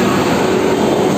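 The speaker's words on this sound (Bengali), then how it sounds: "এ হলো আমাদের লোকোমোটিভ বন্ধুরা" Railway locomotive 37185 standing at the station at the head of the Viswabharati Express from Howrah to Bolpur Shantiniketan: a loud, close, steady engine drone with a constant hum, briefly and alone.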